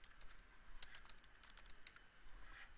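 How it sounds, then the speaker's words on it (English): Fingers tapping keys on a computer keyboard in a quick, uneven run of close clicks, each light and crisp, with no talking. "we're going to start off by typing in just a little bit of data."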